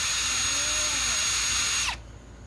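A high-pitched whining power tool runs steadily while cleaning a front shock absorber bracket from a 1978 Ford F150, close and loud, then winds down and cuts off abruptly near the end, leaving faint background noise.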